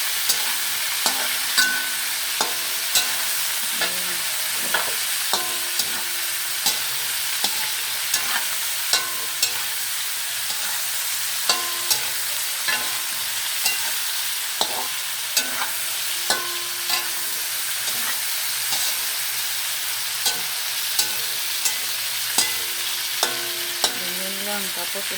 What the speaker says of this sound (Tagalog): Okay, haluin na natin.